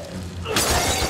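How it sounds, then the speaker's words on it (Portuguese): A glass bottle smashes in The Evil Within 2, a single sharp shatter bursting loud and bright after a short moment of low background rumble. "Garrafada."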